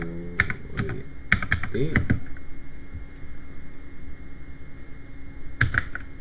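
A switch port security command typed on a computer keyboard: a quick run of crisp key clicks, a pause, then another short burst near the end, all over a steady low electrical hum.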